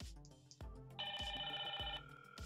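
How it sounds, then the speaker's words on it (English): A Hikvision IP intercom indoor handset rings in response to a call from a door station, giving a steady electronic ring tone that runs for about a second between repeating lower chime pulses, close and clear with no talk. "So now if I press door one, it should ring the phone."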